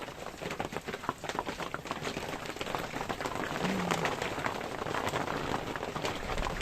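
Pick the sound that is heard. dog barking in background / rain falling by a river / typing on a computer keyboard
rain falling by a river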